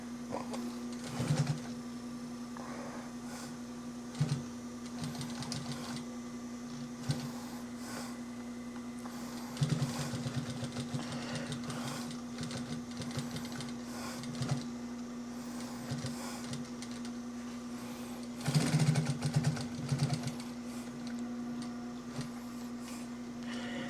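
A sewing machine runs short reverse stitches to lock thread while repairing a C3 Corvette steering wheel, brief rattling bursts over a constant motor hum, with no talk.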